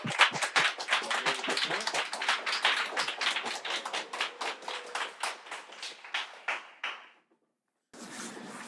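Applause in a university talk concert hall, sharp individual claps from a modest audience in a quick irregular rhythm that thins out and stops, followed by a brief silence and then room noise.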